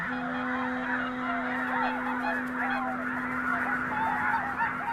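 A large flock of red-breasted geese honking in the Balkans, with dense overlapping calls sounding continuously and fairly loudly over a steady tonal hum.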